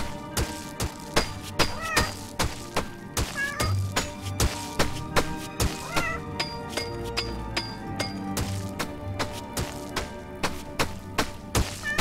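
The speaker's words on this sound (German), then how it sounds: "Nee, das war jetzt nur unsere Katze." A domestic cat meows repeatedly at home over a busy background of clinks and plinking tones, the cries rising now and then above a steady rhythmic clatter.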